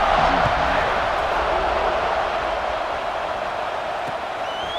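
Football stadium crowd before kickoff at a UGA versus Utah game, a broad steady roar of cheering fans filling the space without letup, with a commentator talking over it.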